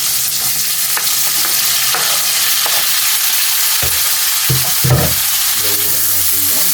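Tomatoes frying with pork in a pan, a loud steady sizzle with scraping and clacking strokes of a utensil stirring through it now and then.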